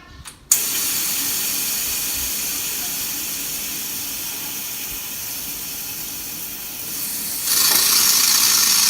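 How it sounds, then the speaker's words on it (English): Air compressor pressure release valve venting, a sudden loud hiss that bursts on after a brief knock and holds steady, swelling slightly louder near the end. "I have no idea what's going to happen when I hit that pressure release valve"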